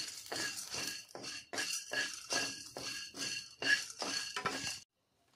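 A metal spoon stirs whole cardamom pods and peppercorns in a wok over low heat. About ten rhythmic, clinking scrapes come close together, then stop abruptly into silence.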